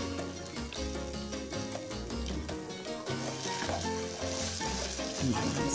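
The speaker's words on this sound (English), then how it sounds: "Stir it up, give it a good stir there." Seasonings being stirred in a pot for Jamaican brown stew butter beans, with a steady moderate sizzle and bubbling, faint liquid movement and clinks, and background music running underneath.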